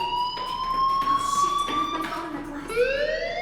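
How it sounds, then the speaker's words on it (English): Fire alarm in the video game Life Is Strange, a steady electronic tone that keeps sounding and then rises in pitch, heard alone at moderate loudness. "Hey, do you hear that fire alarm?"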